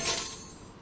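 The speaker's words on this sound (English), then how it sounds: "This is the sound of a brand new outdoor grill being hurled off a 20-story building." A brand-new outdoor grill thrown off a 20-story building hits the ground in one sharp, clattering crash that rings out and fades over under a second, heard alone.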